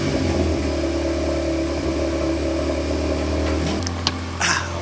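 A VW MK8 Golf R fitted with a RacingLine turbo inlet pipe and elbow, its engine droning steadily up close with a whirring hum, a brief sharp turbo chirp and a short whoosh near the end.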